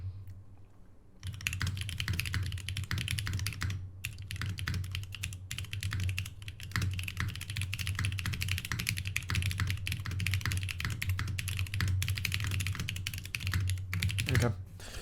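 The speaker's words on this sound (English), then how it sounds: "That was kind of fucking clean typing." Rapid, continuous typing clatters on a computer keyboard, keys striking in a fast, dense stream with a low hum beneath.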